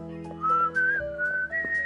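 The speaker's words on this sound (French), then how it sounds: "Il siffle." A person whistles a wandering, sliding melody of several sustained notes, close and clear, with no talk over it.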